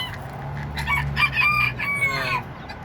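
Bantam chickens cluck and a rooster crows loudly and close by, the crow rising in the middle over a steady clucking background.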